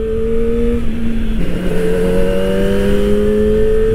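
A Kawasaki Ninja ZX-25R SE, a 250cc four-cylinder sport motorcycle, revs loud and close, its high, smooth engine note dipping briefly and then climbing and holding, with no talk over it.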